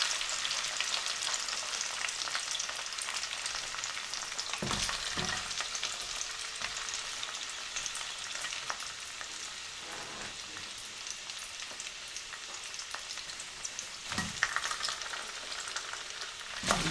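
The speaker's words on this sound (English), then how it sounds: "I'll start adding potatoes in the pan as well now." Potatoes frying in butter in a pan over medium heat, a continuous dense sizzle like steady rain, with a couple of brief knocks or stirring clatters, close and even throughout.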